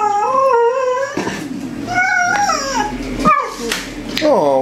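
A puppy vocalizes up close in long wavering howls and whiny yowls that rise and fall in pitch, with short yips between, loud and continuous.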